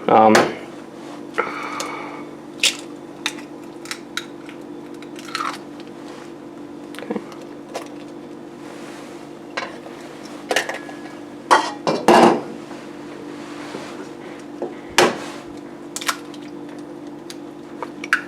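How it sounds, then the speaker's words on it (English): Boiled eggs for ramen being cracked and handled in a home kitchen: scattered sharp taps and clinks against dishes, close and fairly quiet, over a steady low hum with no talk. "Egg cracking ASMR."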